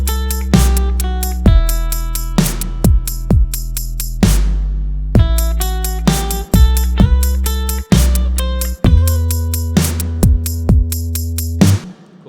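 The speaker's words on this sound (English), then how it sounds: "So that's the second melody in the guitar." Guitar playing the second melody from a song, a sequence of clean plucked notes with short pauses between phrases and a steady rhythm, close and clear with no talking.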